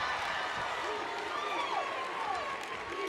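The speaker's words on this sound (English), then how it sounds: "And the crowd loves it." A gymnastics crowd at an Alabama versus Georgia meet cheers and applauds a tumbling pass, with steady distant clapping and whistles filling the whole stretch.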